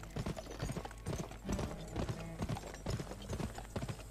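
Horse hooves clip-clop in the video game GUN, a steady, fairly close trotting rhythm of sharp thuds that continues throughout, with faint game background sound.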